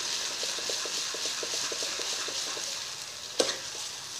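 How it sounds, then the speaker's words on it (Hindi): Halwa being stirred and roasted in a pan makes a steady sizzling hiss with soft, rhythmic scraping strokes, then one sharper knock near the end; no one talks. "ये देखिए, अब इसको काफी टाइम तक इसको ऐसे मिक्स करते रहना है"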